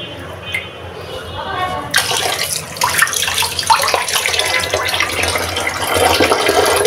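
Water runs steadily from a tap, loud and close, while rohu fish soak in a kitchen. It swells to a fuller gush partway through and continues without a break.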